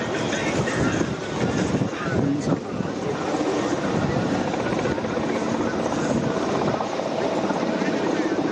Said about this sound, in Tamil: சில நிமிடங்களில் பிரதமருடைய ஹெலிகாப்டர் கிளம்ப இருக்கிறது.